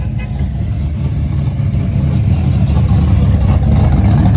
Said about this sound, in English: there's some beautiful cars pulling out right now. A Pontiac Le Mans, a Roadrunner.